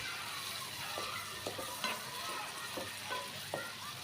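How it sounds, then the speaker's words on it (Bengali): Ginger and garlic paste sautéing with dried fish in a pan, a soft constant sizzle with repeated spatula scrapes roughly every half second, no one talking. "এই যে এখানে আমি আলাম রসুনটা দিয়ে দিলাম"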